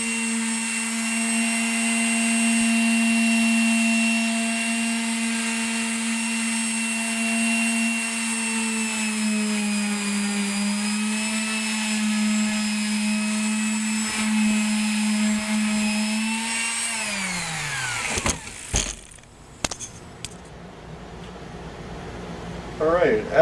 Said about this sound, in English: I'll sand that a little and then cut more off and then a little more